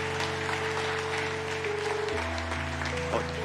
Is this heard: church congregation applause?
yes